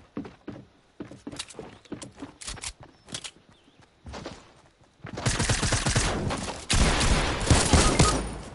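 Video game gunfire: several sharp separate shots in the first half, then dense sustained automatic fire and a fusillade that grows louder toward the end.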